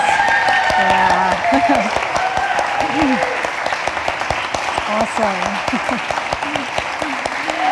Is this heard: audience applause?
yes